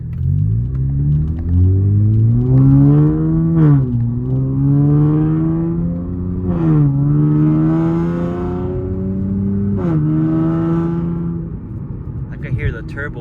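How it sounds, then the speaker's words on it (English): Nissan Z with upgraded turbos, heard from inside with the windows up, the engine rising through several revving pulls separated by shifts, with a faint turbo whistle over loud low rumble. "turbos whistling."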